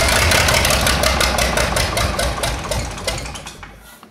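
A John Deere 5020 tractor engine with valves not closing fully runs roughly after being started on starting fluid, a loud close uneven chugging with a rapid knocking pulse that gradually fades and dies away.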